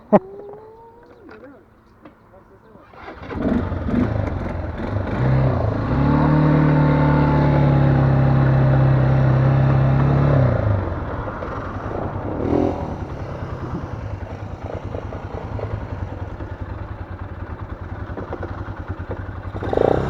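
A Kuba VIP Yrack 250 motorcycle running with its air filter removed starts up and revs hard for several seconds, then settles into a rough, throbbing idle close by, with voices briefly audible.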